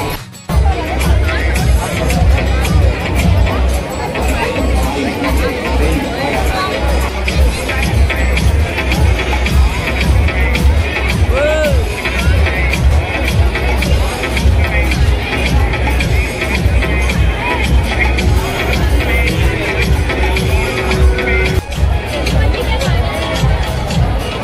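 Dense crowd babble fills the Bhutiya Mahal haunted house exhibit in Bhilai sector 1, a loud, unbroken hubbub of many overlapping voices and shuffling close by throughout.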